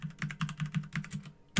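Fast, close keystrokes on a computer keyboard while entering network routing commands, a steady run of light clicks ending in one harder key press.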